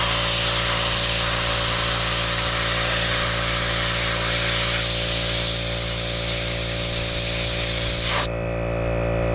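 A $35 Harbor Freight sandblaster blasts a big block intake manifold with a loud, steady hissing roar of compressed air and abrasive, running continuously before cutting off abruptly near the end.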